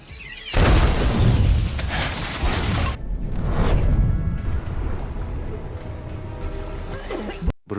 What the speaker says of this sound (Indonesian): beruntung dari ledakan tersebut